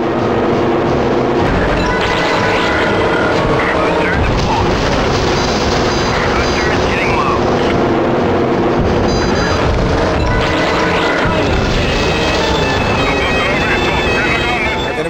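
In the Hydro Thunder video game, the Tidal Blade racing speedboat's engine drones loudly and continuously over splashing water and game effects, with someone speaking occasionally over it.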